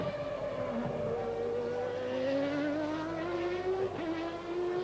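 A 1990 Formula One car screams past at Estoril during the Portuguese Grand Prix, a high engine whine sweeping down in pitch as it passes, with a second rising engine note following, heard at a distance.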